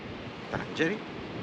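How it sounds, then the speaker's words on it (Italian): Steady wind blows at a coast where the Mediterranean meets the Atlantic Ocean, facing Africa near Tangier. It makes a continuous broad rushing noise, with a brief voice passing through it. "qui insomma c'è sempre vento, anche d'estate"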